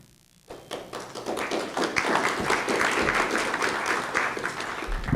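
Audience applause at a public meeting on sewer, storm water and drinking water infrastructure funding, starting abruptly after a brief quiet and holding as a steady, dense roar of many hands clapping to the end.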